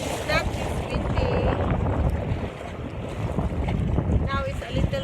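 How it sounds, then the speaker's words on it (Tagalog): Strong wind gusts at night along a lakeside pathway with choppy water, buffeting the microphone in a steady roar, while people talk faintly beneath it. "Now it's a little windy, but it's fine."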